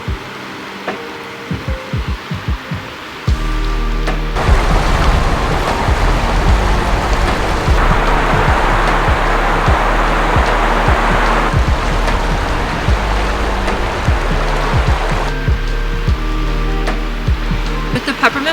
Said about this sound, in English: The river is raging because of all the rain that we got yesterday.